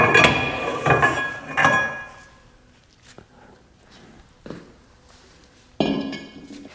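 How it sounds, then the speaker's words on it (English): Metal clinks and clanks from pulling a C-clip and sliding an axle out of a vehicle differential during an overhaul, with several sharp knocks early on, sparse faint taps in the middle, and a final louder rattle. "So there's our C-clip, and now the axle should come all the way out."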